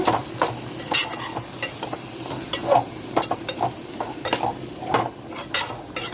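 Raw prawns and onions frying in a pan for a Guntur gongura curry, with steady sizzling and repeated scraping of a spoon as the mix is stirred, close and continuous with no talk.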